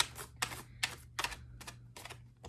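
A deck of tarot cards being shuffled in several quick, crisp bursts of riffling, close and fairly quiet, separated by short pauses, with no voices.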